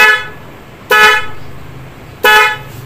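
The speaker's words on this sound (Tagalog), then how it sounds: "Napakaganda ng tunog ng busina." An aftermarket dual horn fitted to a car sounds up close, the tail of one blast followed by two loud, separate honks about a second apart over a faint background hum.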